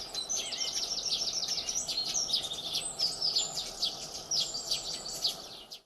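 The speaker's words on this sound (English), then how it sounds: "American tree sparrow." Chirping calls of an American tree sparrow, a run of quick high twittering notes repeated over faint background noise, moderately near.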